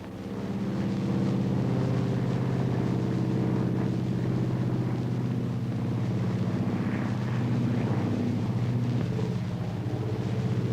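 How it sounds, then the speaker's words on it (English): A propeller airplane drones steadily with a low, throbbing engine hum that holds at an even level throughout, without voices. "They call it the airplane."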